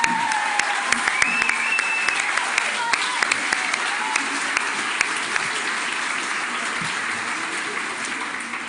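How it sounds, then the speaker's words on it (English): Steady applause from an audience at a staff awards ceremony, running for the whole stretch with a brief voice over the clapping near the start. "Big round of applause for everybody."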